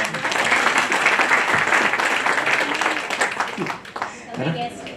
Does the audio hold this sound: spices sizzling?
no